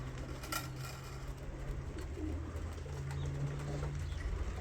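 Racing pigeons cooing during a one-mile training toss, low steady coos repeating up close with a soft outdoor hum behind them and an occasional faint call.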